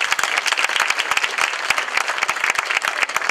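An audience at a Bolivian school event in Cuba applauds a teacher and a girl, with dense, steady, close-sounding clapping that fills the whole stretch.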